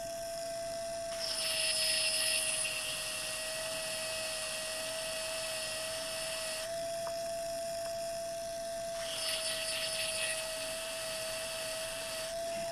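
A modified pedicure wand sands a slightly bowed clay piece flat, giving a steady high-pitched motor whine that holds throughout, with louder grinding bursts where the bit bites into the clay, near and alone with no talk.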